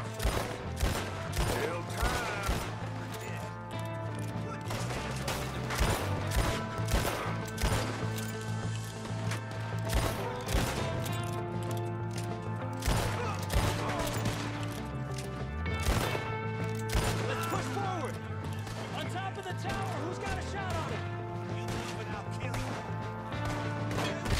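Varmint rifle gunfire in the Red Dead Redemption 2 video game: repeated sharp shots crack through a dense battle mix and a busy, loud soundtrack, with a voice talking now and then.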